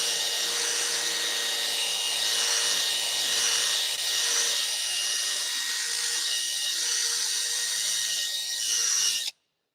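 A roto wool buffing pad on a polisher spinning at 4,000 RPM whirs in a steady, loud, tonal drone with a slow rhythmic swish, running alone until it cuts off abruptly near the end.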